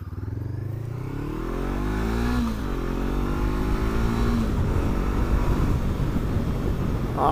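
A Honda CBR500R motorcycle pulls away and accelerates, its engine note climbing through gear changes into a steady, close, loud drone with wind rush, no talking.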